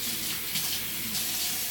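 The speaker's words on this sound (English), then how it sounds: "Okay, now we can rinse it out." Water running steadily from a tap while a child's hair is rinsed, a continuous close rushing and splashing with no talk.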